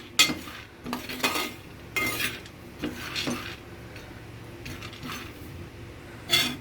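Roasted gram (putnalu) being fried and stirred in a pan, producing dry rasping scrapes and rattles in short irregular bursts, close by and moderately quiet, with no speech.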